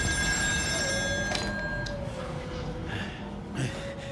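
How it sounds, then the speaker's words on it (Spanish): An old telephone on an offshore oil rig in Still Wakes The Deep rings with a steady, bright electronic trill over a low droning background hum. "Otra vez el teléfono."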